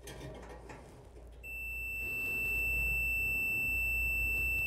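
A steady, high electronic beep from a multimeter continuity test on a Whirlpool Cabrio dryer heating element starts after a brief moment of quiet and holds unbroken, loud and close, until the end.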